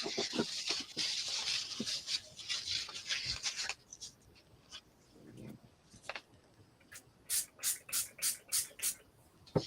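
Craft spray misted over a stencil: a long, steady breathy hiss up close, then a quieter pause and a quick series of short, sharp spray bursts in an even rhythm.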